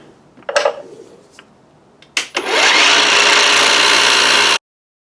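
A milling machine drills a hole in a part for a musical dual resonant Tesla coil: a couple of clanks, then a loud steady high whirring cut for about two seconds that stops abruptly.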